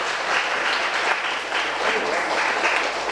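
An audience at a spiritual discourse claps steadily, a dense wash of many hands applauding together at even loudness throughout, with no clear voices above it.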